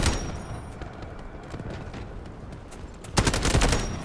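Bursts of CI-19 rifle fire in Delta Force at mid-range, rapid sharp automatic shots in short clusters, faint at first and growing loud in a dense volley near the end.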